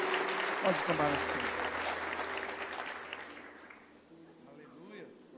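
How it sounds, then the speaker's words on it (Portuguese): A church congregation applauds together in a steady wash of clapping, loud at first and thinning toward the end, with a preacher's voice speaking over it. "Vamos aplaudir ao Senhor por isso."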